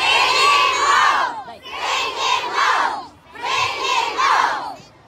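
A large political rally crowd shouting back in unison, three long loud roars, each a few seconds long with short pauses between, like chanted replies to a call.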